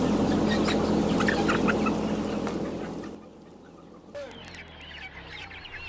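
Chickens on a crowded factory farm cluck and chatter loudly in a dense, constant flock din, which drops away briefly before faint scattered clucks and calls return.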